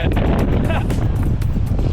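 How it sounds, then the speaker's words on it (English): Strong wind buffets a microphone on a small fishing boat at sea, a loud continuous roar and rumble filling the whole moment. "the wind is really annoying"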